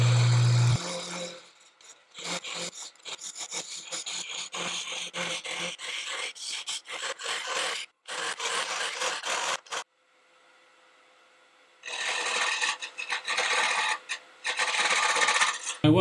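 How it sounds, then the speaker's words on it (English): A Simon Hope mini hollowing tool cuts into a wooden vase spinning on a lathe, giving a gritty, scraping rasp in bursts separated by short pauses and one longer gap, close and fairly loud with no voices. "Now I'm going to start off the excavation of this vase or a pot, whatever you want to call it, using my Simon Hope mini hollowing system."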